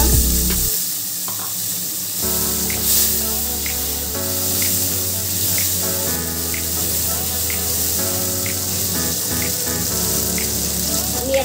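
Chopped tomato sizzles in a frying pan for a papaya and moong dal dish, a continuous close hiss and spatter running steadily beneath background music.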